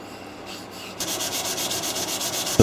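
A soft buffing wheel polishing the middle circle of a turned, cast metal piece: a steady, bright whirring rub that begins about a third of the way in and holds, with a sharp knock near the end.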